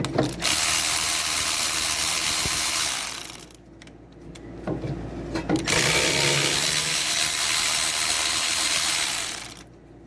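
A socket wrench ratchet clicks in long, loud runs while the bolts of an electronic e-brake are worked loose, with a short pause near the middle.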